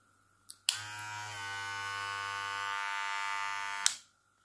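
A Wahl Cordless Senior hair clipper switches on with a click, runs as a steady close buzzing hum for about three seconds, then clicks off and winds down.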